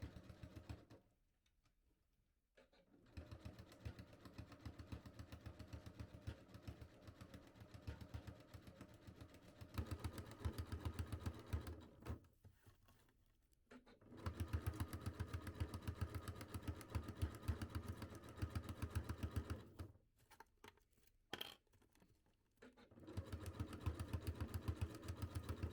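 A sewing machine stitches stretchy sequin fabric for a dress, running in long steady mechanical hums that stop and restart several times, fairly faint and with no talking.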